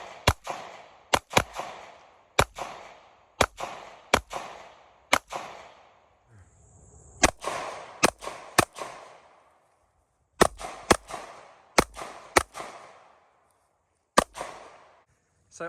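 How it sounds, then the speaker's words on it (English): Shots from a GLOCK 43X pistol ring out at a shooting range in sharp, loud bursts of several rounds, with brief pauses between strings and a short gap midway, no talking over them. "We're about to put some rounds through the GLOCK 43X."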